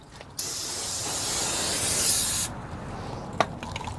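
A continuous pressurized hiss of aerosol brake cleaner sprayed onto the front brake hub of a 2018 Honda Odyssey, one sustained burst of about two seconds, close and fairly loud, followed by a brief click.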